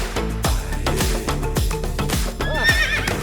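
A horse whinnies near the end over a busy rhythmic clatter of hooves and drum-like thumps, close and loud, at a mounted ball game in East Sumba.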